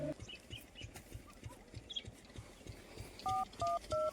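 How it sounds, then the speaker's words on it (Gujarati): Telephone keypad tones ring out as a number is dialed, three or four distinct two-tone beeps in steady rhythm near the end, following a stretch of muffled background noise with a soft rhythmic thumping. "હવે સીઆઈડી ને ફોન કરવો પડશે"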